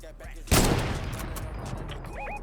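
A rocket launcher fires in a video game with a sudden loud blast, and a long rumbling tail fades under faint background sound. Short game sound effects chirp near the end.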